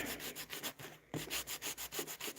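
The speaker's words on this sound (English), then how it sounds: "Then I'm going to sand right on top of it" A wall surface being sanded by hand, tapering down a painted edge, with quiet rhythmic back-and-forth rubbing strokes and a brief pause partway through.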